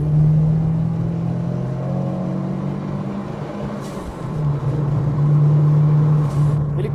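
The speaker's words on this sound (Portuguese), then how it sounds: "Essa válvula de alívio é um pouco irritante, aparece demais aqui." A 1987 Fiat Uno Turbo (MK1) engine revs and pulls under load, a steady loud drone that dips briefly mid-clip, with short airy hisses from the turbo blow-off valve near the end.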